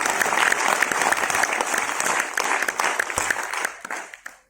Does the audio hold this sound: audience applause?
yes